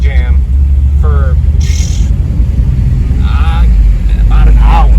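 An LS-swapped OBS Chevy truck idles in a traffic jam with a loud, steady low rumble throughout, while someone talks over it in short bursts.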